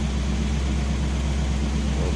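A Ford 289 V8 engine in a 1966 Ford Mustang Fastback idles steadily with a deep, even rumble, heard up close and alone.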